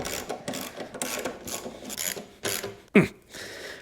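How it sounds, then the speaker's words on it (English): Skid bolts on a snowblower being loosened with a ratchet, a close series of quick clicking and scraping bursts with one sharp metallic clank near the end. "Then I'm gonna loosen the skids on each side."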